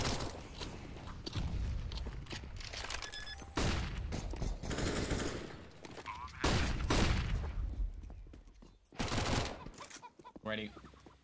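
Gunfire during a professional Counter-Strike match on the Inferno map, with sharp repeated bursts of automatic weapon fire coming in several loud clusters separated by brief lulls, and a commentator talking between them.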